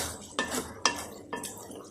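A spoon scrapes and clinks in a pan while moong dal roasts over low heat, three quick stirring strokes with metallic chinks, close and alone.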